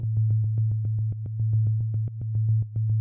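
A music sequencer repeats a single synthesizer note in a fast, even pulse, about seven per second, with a steady low sine-like tone and sharp clicky attacks on each step, loud and dry with nothing else.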